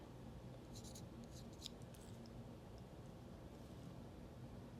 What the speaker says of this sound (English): right here where I'm drawing on the reed is the bottom of the heart